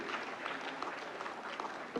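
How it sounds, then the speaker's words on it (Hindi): Applause from the audience for the winners at the 69th National Film Awards ceremony in Vigyan Bhavan, New Delhi: moderately loud, dense clapping from a sizeable crowd. "जोरदार तालियां इन अवार्डीज के लिए"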